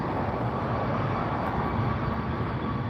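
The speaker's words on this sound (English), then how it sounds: "we've got this WestJet that's rolling out" A WestJet airliner rolling out at LAX, its engines a steady, broad rumbling roar that stays loud and constant throughout, with no talking over it.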